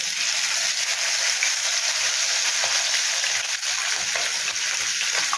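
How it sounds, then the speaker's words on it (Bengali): Tangra fish frying in hot oil in a nonstick pan, a steady bright sizzle and crackle that holds evenly throughout, close and fairly loud, with no talk. "এরকম ননস্টিকে তেল গরম করে নিয়েছি। এবার ট্যাংরা মাছগুলো ছেড়ে দেবো এতে।"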